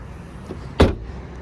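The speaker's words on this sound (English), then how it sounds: "Easy to close the lift gate there." A single solid thump as the lift gate of a 2025 Chevrolet Trax LS is shut, close and fairly loud after a faint earlier click, with quiet surroundings and no talk.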